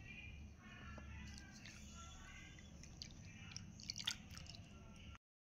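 Milk pours into a bowl of semolina for an eggless cake, a soft continuous trickle with small wet splashes near the end, quiet and close.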